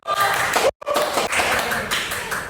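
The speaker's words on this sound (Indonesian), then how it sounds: "Beri tepuk tangan dulu dong." Students in a school podcast audience at SMKN 13 Bandung clap their hands for a guest, dense steady clapping broken by a brief cutoff, with a little voice mixed in.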